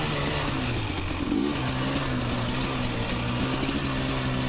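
A 2019 KTM 250xc two-stroke dirt bike engine running steadily close by, with a throttle blip near the start and a buzzy mid-pitched drone that holds through to the end.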